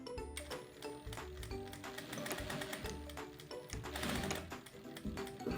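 A sewing machine runs a securing seam along the edge of a dish towel border in short, quick bursts of rapid clatter, stopping and restarting between passes, fairly quiet and close with no talk.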